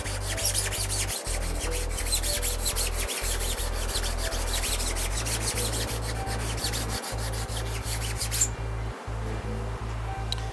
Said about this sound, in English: I'm going to sand it down with 100 grit sandpaper now